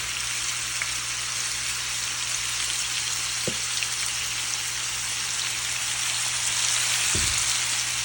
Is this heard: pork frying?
yes